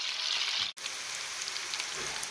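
Onion frying in a pan for a homemade pizza sauce, a steady close hiss of sizzling oil with a brief cut partway through.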